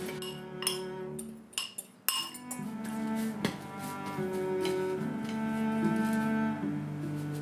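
Utensil clinking against a bowl while agar powder, potato starch and mochi are mixed for a vegan burger, with repeated light clinks and scraping taps that run steadily throughout.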